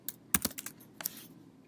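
Keys clack on a computer keyboard as a git push command is typed: a handful of quick, close, crisp keystrokes in an uneven burst with short gaps, no voices.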